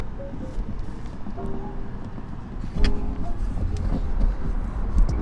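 Steady low rumble of a Jeep Wrangler JL driving along a road, engine and road noise growing slightly louder partway through.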